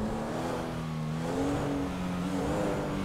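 A car engine in GTA V revs steadily with a rising and falling whine, easing off and picking up again, loud and continuous with no talking.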